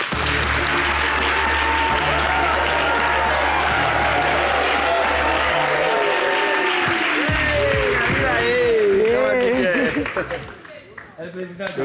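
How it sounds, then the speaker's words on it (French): A studio audience at a television entertainment show applauds in a loud, sustained burst of clapping, with voices talking over it and rising through the later part. "On les applaudit, s'il vous plaît"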